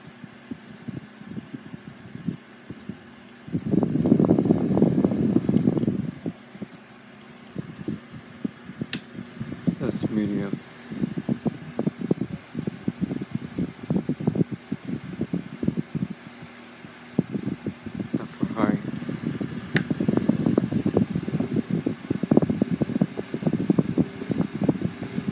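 Two household fans, a Mainstays HV-9 and a Honeywell HT-900, running at low speed, giving a steady whooshing hum with irregular soft fluttering thumps and a louder gust of airflow near the start.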